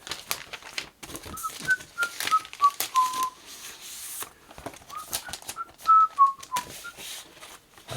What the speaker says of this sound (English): why the fuck am I whistling Christmas carols?